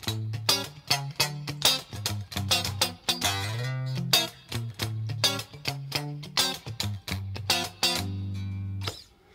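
A funky electric guitar rhythm plays alone and close, with short snappy staccato chord stabs in a bouncing pattern over a low bass line and brief sustained notes near the end.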